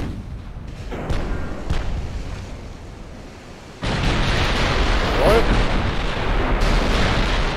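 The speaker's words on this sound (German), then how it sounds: "Bismarck hat geschossen" Bismarck battleship main guns firing in Ultimate Admiral Dreadnoughts, heavy booming salvos with a sudden loud burst into sustained rumbling roar, while someone talks over the gameplay.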